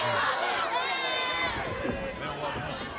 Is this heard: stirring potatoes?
no